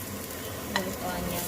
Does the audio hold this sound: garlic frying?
yes